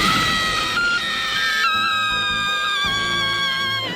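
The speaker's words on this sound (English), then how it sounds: "her scream is already chilling, but then you add the beep of the battery dying on top of that" A woman's sustained, piercing scream from the End of Evangelion film, with a steady high electronic battery-dying beep tone layered over it, loud and continuous throughout.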